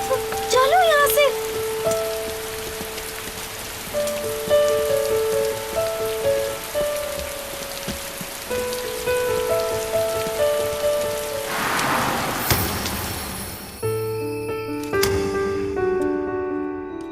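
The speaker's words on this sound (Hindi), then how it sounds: "गूही जल्दी चलो, बारिश हो रही है।" Heavy rain pours down steadily and loudly throughout, a dense hiss of drops on surfaces mixed with scattered musical tones, without speech.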